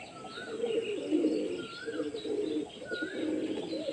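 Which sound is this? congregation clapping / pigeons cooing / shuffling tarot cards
pigeons cooing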